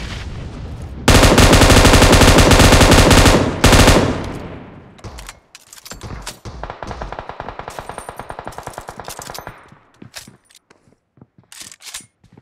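An M249 machine gun fires inside a video game, first in one long, loud sustained burst, then in a string of shorter, rattling bursts and scattered single shots.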